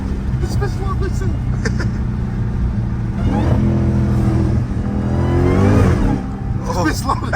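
Up close, a Chrysler Hellcat with a loud aftermarket intake revs repeatedly, its engine note climbing in sweeping bursts with a sharp whine, while someone talks over the noise.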